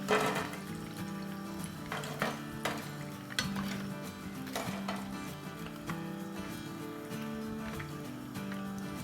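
Hot oil sizzles and crackles steadily for several seconds as chicken fries, with occasional clinks and scraping of a utensil against the pan.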